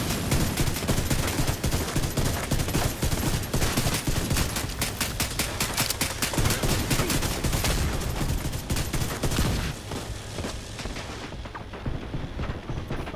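Sustained heavy gunfire in The Division 2 during an Iron Horse raid, continuous rapid automatic bursts and booming shots that run loud and dense before easing slightly near the end.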